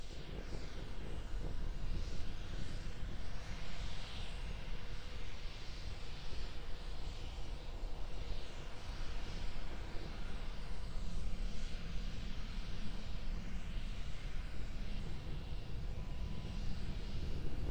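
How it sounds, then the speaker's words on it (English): A single Raptor engine on the SpaceX Starship SN10 prototype roars steadily while the vehicle hovers during a high-altitude flight test. The rumble is distant and unbroken, and no voices can be heard. "We're still being powered by the single Raptor engine."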